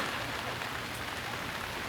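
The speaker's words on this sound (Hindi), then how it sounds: "वहाँ बादल फट गए, वहाँ घनघोर बारिश हो रही है" Heavy rain pours down in a thick, unbroken roar, close and loud, with nothing else audible.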